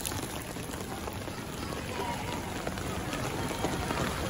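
Heavy rain pours down during a flood, a dense continuous hiss and patter of drops that stays steady and loud from start to finish with no clear voices over it.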